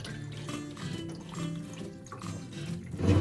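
Water sloshing and pouring off rice being washed in a pot, a continuous close splashing and swirling of liquid with a louder gush at the end.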